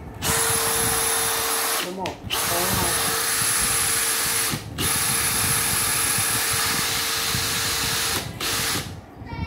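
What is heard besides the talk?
three-function rotary hammer drill (HB480) running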